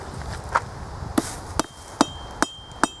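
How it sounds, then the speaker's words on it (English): Blacksmith's hammer shaping a forged metal bracelet with gentle blows: six evenly spaced, ringing metallic strikes about half a second apart, close and distinct over a quiet room. "You don't want to have a lot of hammer strokes in this to have to correct."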